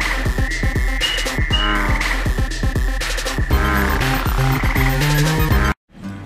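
Loud, rhythmic frog croaks at a vernal pool pulse repeatedly over a continuous chorus, several calls overlapping, before cutting off abruptly near the end.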